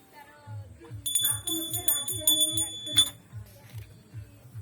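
Small prayer bell rung repeatedly during an evening puja at home, bright metallic strikes in a steady series over a low rhythmic pulse, fairly close.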